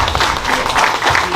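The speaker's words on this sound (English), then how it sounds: "Can you give Lolade a round of applause?" A room full of people at a business ball applauds, dense and loud clapping that holds steady for a moment without voices.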